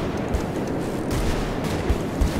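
Gunfire from a shootout in the Roblox Wild West game, a dense run of muffled shots with a few sharper cracks over about two and a half seconds, fairly steady and moderately loud with no talking.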